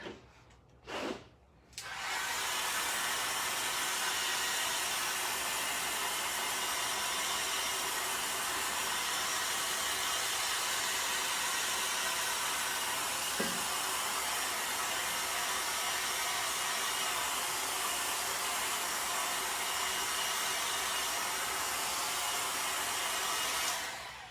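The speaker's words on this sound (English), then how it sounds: "I'm going to grab the blow dryer real quick." A blow dryer clicks on after a couple of brief starts, then roars steadily and loudly for a long stretch before cutting off.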